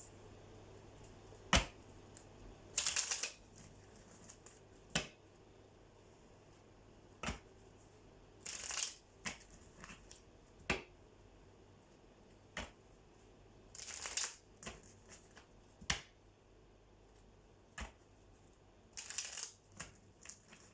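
Tarot cards being shuffled and tapped into place in a quiet room: repeated short riffling bursts and sharp taps spread across the stretch, close and fairly soft, with no talk.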